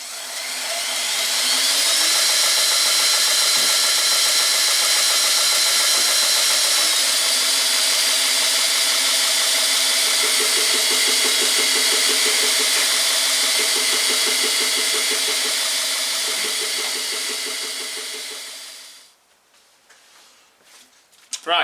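A grinder polishes a zipper blade at 400 grit, giving a loud, steady high-pitched whine with a faint pulsing texture that runs for about seventeen seconds, then cuts off into quiet.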